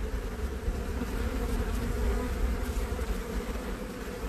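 Honey bees swarm around an open, crowded hive, a steady dense buzz of many insects heard up close and fairly quiet, with no talking.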